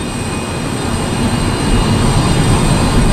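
Engines of the Antonov An-225 Mriya at takeoff throttle, a loud, steady jet roar with a broad rushing texture and faint high whine, swelling slightly as power builds, close and continuous without talking.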